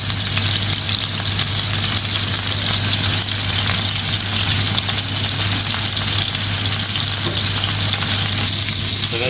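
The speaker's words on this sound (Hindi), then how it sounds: "कैसी प्यारी सिजलिंग की आवाज़ आ रही है।" Chicken tandoori shashlik frying in a pan over a medium flame, a loud, steady, dense sizzle that runs unbroken with no talking.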